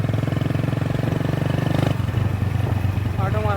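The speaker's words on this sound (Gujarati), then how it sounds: "બાઇક લઈને આમ નીકળ્યા અમે" A motorcycle pulls away by a riverside, its engine loud and steady at first, then dropping off as it moves away, with voices talking over the later part.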